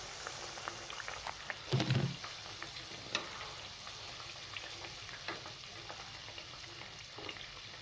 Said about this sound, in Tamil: நம்ம தீ கொஞ்சம் மிதமாக வச்சுட்டு பொறுமையாக பொறிச்சு எடுத்துக்கலாம்.